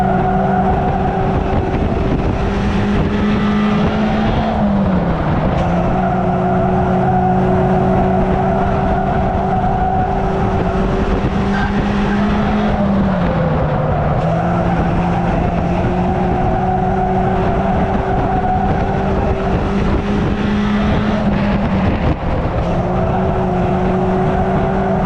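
Several race cars at Cowdenbeath Racewall run nose to tail in close racing, engines droning steadily and loud with repeated pitch dips as they lift off for the bends, recurring every few seconds.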